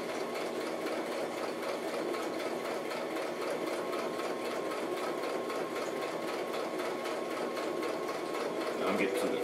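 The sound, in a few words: sewing machine sewing thick part of handbag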